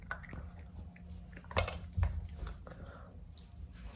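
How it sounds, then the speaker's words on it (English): A Goldendoodle puppy paws at its bowl, making a few soft, scattered clinks and taps against a quiet background, with one brighter clink in the middle. "He has his two little paws in the bowl."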